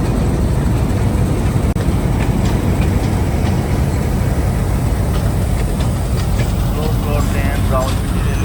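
The three-coach Thall Express 130 DN slowly pulls out of platform 2 at Rawalpindi railway station bound for Attock, giving a loud, steady rumble with scattered wheel clicks and clanks, and voices are faintly mixed in.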